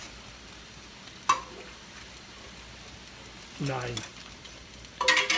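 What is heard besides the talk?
stirring chicken and dumplings in a pot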